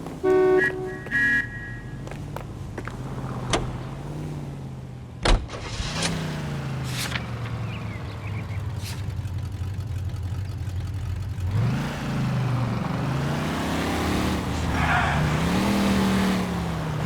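A car driving in the video game L.A. Noire, a steady engine drone with shifting revs, a sharp horn-like toot early on, a few clunks, and rising acceleration toward the end.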